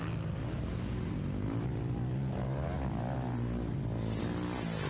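A Triumph 500 motorcycle engine in an off-road race, a loud, sustained buzzing drone that holds steady at high revs, filling the scene from start to finish with no talking over it.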